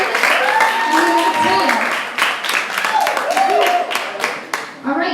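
Audience clapping at a poetry slam as scores are read out, rhythmic claps under a host's loud talking over them.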